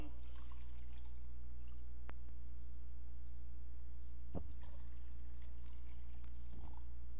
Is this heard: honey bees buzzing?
no